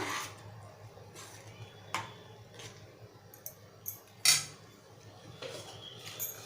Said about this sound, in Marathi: ढवळून घेऊया